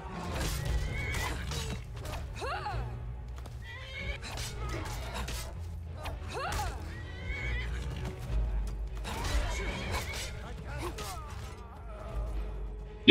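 Horse in the video game Skyrim neighing and whinnying several times over a low rumble and hoof clatter. The calls rise and fall in repeated bursts, loud and close throughout.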